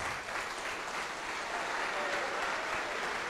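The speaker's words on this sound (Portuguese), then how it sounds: "Vamos aplaudir a palavra de Deus." Church congregation applauding together, a steady dense clapping that fills the space, fairly distant and even in level with no break.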